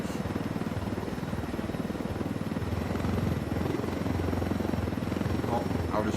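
Helicopter in the video game Ghost Recon Wildlands, a steady rotor thump and engine drone running continuously at moderate loudness, with a voice briefly talking over it.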